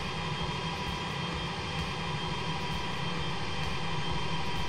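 Steady drone of an A319 airliner's engines in the X-Plane 11 flight simulator on approach to landing, a broad continuous roar with a low rumble, even and unbroken from start to finish.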